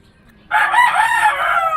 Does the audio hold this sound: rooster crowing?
yes